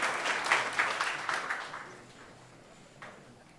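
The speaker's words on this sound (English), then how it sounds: "Give this man a round of applause for his love of the history of this city." A crowd at a packed Springfield town hall applauds. The loud clapping fades over about two seconds into faint scattered claps, with a single clap near the end.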